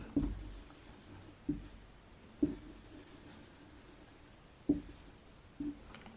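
Marker writing on a board during an English grammar lesson: scattered soft strokes and taps, quiet and close, with irregular pauses and no speech.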